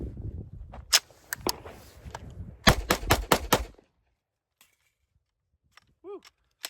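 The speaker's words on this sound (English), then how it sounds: "let's go ahead and put some more rounds down range. And let's shoot this picks from Recover Tactical." Several sharp Glock pistol gunshots fitted with a Recover Tactical P-IX+ upgrade, fired in quick irregular bursts with a pause between groups, loud and close, then quiet with a faint brief voice at the end.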